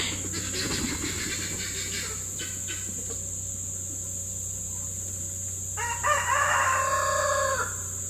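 Chickens and guinea fowl call over a continuous insect buzz and hum, with a louder crowing burst near the end.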